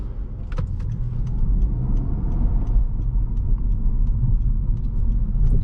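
A 2023 Honda Civic Hybrid is heard from inside while driving, a steady low road and engine rumble with light rattles and faint clicks running continuously throughout.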